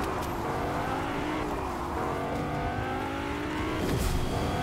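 A car in Fortnite drives steadily with a continuous engine drone, its pitch rising and falling slightly as it revs, loud and close throughout with a brief surge near the end.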